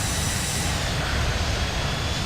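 Boeing 717 jet engines in a flight simulator game flying in Hawaii, a steady, dense roar and rushing hiss that holds constant throughout, with no talk.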